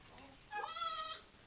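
A farm animal, likely a goat, gives a short wavering bleat, faint and somewhat distant, with quiet background noise around it.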